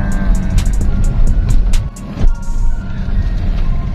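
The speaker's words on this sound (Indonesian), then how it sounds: "Mobil ini sudah kita test drive keseluruhan." A classic Toyota Crown Royal Saloon on a test drive, its engine a steady low rumble with road noise under the cabin and a few faint ticking and clicking sounds, no voices.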